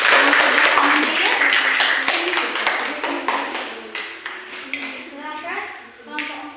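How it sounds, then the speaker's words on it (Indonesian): A classroom of students applauds student group 4. Brisk, close clapping opens the moment, then thins and fades as a voice begins speaking. "tepuk tangan untuk kelompok 4"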